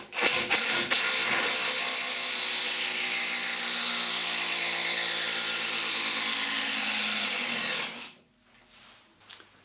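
A DeWalt DCF887 18V brushless impact driver drives a screw in one long, loud, steady burst of rapid hammering whir lasting about eight seconds, then cuts off abruptly into quiet handling sounds.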